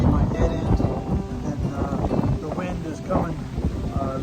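Strong wind gusting across a mountain campsite beside a pitched tent, a steady roaring buffet with rumbling gusts up close on the microphone.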